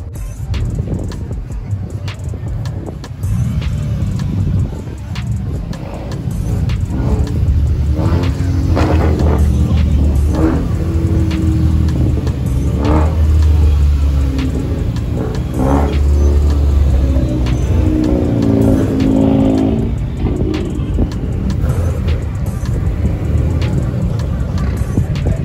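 Dodge Chargers rumble and rev as they pull up at an outdoor car meet in Charlotte, North Carolina, with a steady loud low engine drone and swelling throttle blips throughout, close by, and faint voices mixed in.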